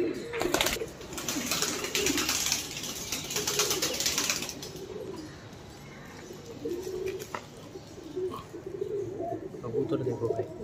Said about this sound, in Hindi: कबूतर देखो भाई इस तरह कबूतर है